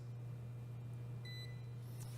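Built-in timer on a cooking appliance being set, giving a short high electronic beep over a steady low appliance hum, in a kitchen.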